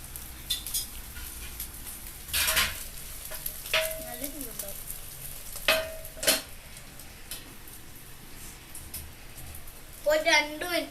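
An egg fries in a pan with a continuous crackling sizzle, broken by spatula and pan clatter and brief tonal sounds, while a voice speaks now and then over the cooking.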